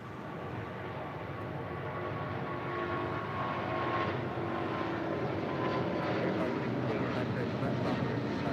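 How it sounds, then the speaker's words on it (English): United Airlines Boeing 777-200 departing LAX for Newark, a steady, fairly distant jet engine roar that builds slightly over several seconds, with faint background talk. "That is United Airlines 1637 departing to Newark on a 777-200."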